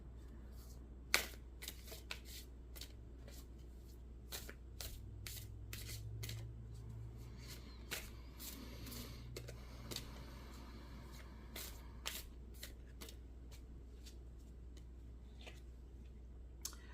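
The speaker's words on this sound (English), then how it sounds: "I'm gonna continue shuffling here and come out." Playing cards are riffled and shuffled repeatedly in quick, crisp bursts of flicking, close and fairly quiet over a low steady hum.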